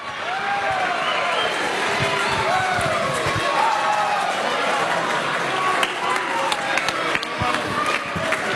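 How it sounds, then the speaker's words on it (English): A stadium crowd at an Australian football match between Richmond and Hawthorn roars as players come out, a dense, continuous wall of cheering under a commentator's voice, with scattered whistles and shouts rising above it. "The crowd is roaring."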